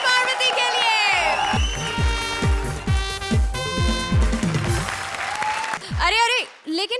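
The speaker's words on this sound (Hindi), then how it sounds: "जोरदार तालियां कपिल और पार्वती के लिए।" Studio audience applause and cheering on a Hindi TV comedy show, loud and sustained, mixed with bright musical stings, punchy drum hits and voices talking over it.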